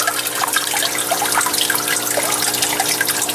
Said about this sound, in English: there's always water coming out of that one pipe coming down on the right hand side of the screen there